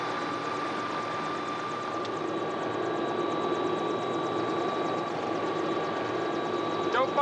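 A helicopter's engine and rotor drone steadily and evenly at a constant level throughout, with a high engine whine running over a dense rushing wash.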